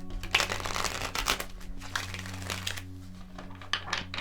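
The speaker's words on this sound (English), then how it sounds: "One last shuffle." Tarot cards are shuffled by hand in several quick, crisp riffling and rustling bursts, close and fairly loud, with no talking.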